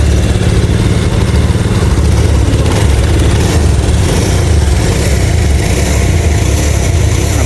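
A motorcycle engine running loud and close on a rough hill road, a steady throbbing rumble held at constant volume without pause.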